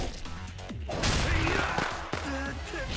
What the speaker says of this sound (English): Oh god, it's fireworks!